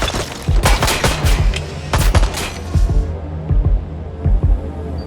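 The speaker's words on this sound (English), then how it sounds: "Shots fired! Shots fired!" Gunfire in the video game Watch Dogs: Legion, heard as loud, close bursts of rapid shots in clustered volleys over a low throbbing game background.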